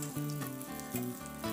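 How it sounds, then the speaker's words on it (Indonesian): Tofu aci balls coated in beaten egg fry in hot oil, giving a steady, close sizzle and crackle that keeps up without a break. "Dan ini kita goreng hingga warnanya berubah kuning kecoklatan."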